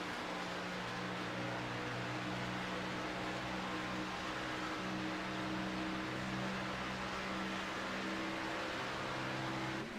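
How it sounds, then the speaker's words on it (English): An Xfinity race car engine at Daytona drones steadily at high revs on track, a continuous dense mechanical roar that holds fairly even and somewhat distant for the whole stretch, with no talking. "You can hear him really winding that car out, getting all the good out of the power plant on that engine."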